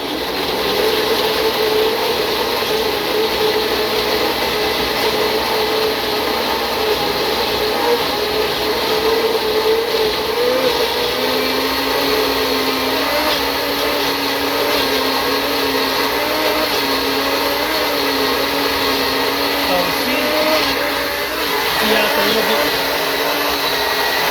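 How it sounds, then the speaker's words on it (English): Water trickles and splashes into a water bath canning pot holding jars, with a few louder sloshes and clunks near the end. "so it's in the blend tech, and I'm just going to blend it up."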